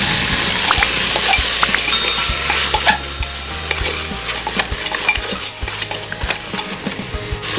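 Mutton head meat and onions stirred and frying in a pan, a steady close sizzle with repeated scraping and clinks of a spoon against the metal, no voices.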